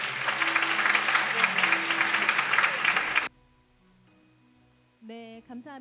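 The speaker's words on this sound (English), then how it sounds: "Let's give a round of applause." An audience applauds award recipients at an international peace art competition, a dense burst of clapping that stops abruptly after about three seconds, followed by a quiet room and then a voice speaking.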